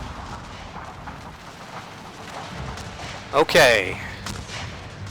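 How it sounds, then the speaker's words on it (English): Artillery shelling rumbles through a First Manassas Civil War battle video game, with a low continuous roar of distant cannon fire and a sharper burst near the end, and a voice briefly speaks over it. "That's a lot of shelling."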